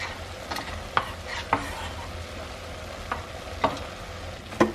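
Chopped onion stirred into browned ground meat for chilli in a pan, with a constant close sizzle broken by sharp, irregularly spaced scrapes and clinks of the spoon against the pan.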